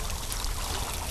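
Steady splashing and trickling water in a pond, a continuous close wash of sloshing with no pauses and no voices.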